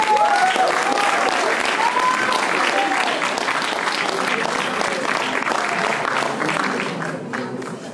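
A crowd at an evening support event for striking hotel workers bursts into loud, sustained applause that fills the room and tapers slightly toward the end, with some voices mixed in.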